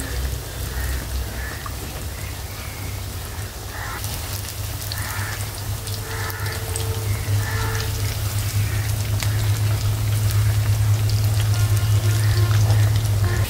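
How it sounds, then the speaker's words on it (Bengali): Fish kofta balls fry in hot oil with a constant dense crackling sizzle that grows a little louder over time, with a low hum underneath and no voices. "আমি এখানে মাছের তেলের ভিতরে ভেজে নিব"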